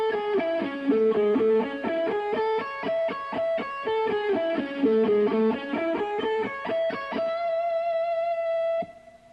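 A distorted electric guitar plays a lick slowly, a run of single notes climbing and falling in repeated sequences before settling on a long sustained tone, loud and alone.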